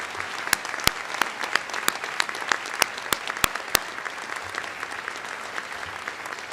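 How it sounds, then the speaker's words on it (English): Audience applause for award recipients at a high school senior awards night, steady continuous clapping from a crowd with several sharp, louder individual claps standing out close by. "please give us one last round of applause for all our award recipients"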